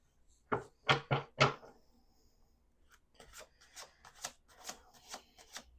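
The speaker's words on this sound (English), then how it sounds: "Let's do 2 more shuffles." Tarot cards are riffled in three quick, close bursts, followed by a softer run of shuffling and tapping, with no voices.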